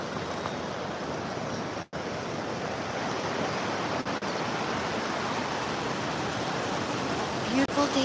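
Ocean waves wash continuously at Daytona Beach, a loud, steady roar of surf with wind noise and a few brief dropouts, and no voices.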